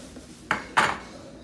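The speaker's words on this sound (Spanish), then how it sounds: "Le seguimos meneando a ver cuánto caldo se va a llevar" Two short metallic scrapes of a spoon against a pot while stirring thick Mexican mole sauce with broth, quiet and close, with faint room tone between.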